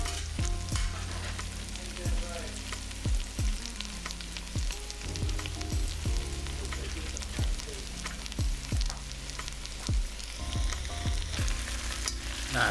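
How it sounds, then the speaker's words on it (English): Beef short ribs go back into a hot Dutch oven for braising, with a steady sizzle running throughout and repeated sharp clatters and thumps of meat and utensils against the pot. No one speaks. "we're gonna go ahead and get our short ribs back into our Dutch oven"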